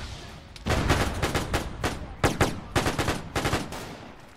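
WW1 guns firing in trench warfare in the video game Arma 3, a rapid series of loud sharp shots in irregular bursts, close and punchy, with brief gaps between volleys.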